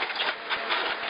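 A tractor engine runs steadily on a work site, heard from inside the cab as a continuous mechanical drone with a faint rhythmic pulse, and no one speaking.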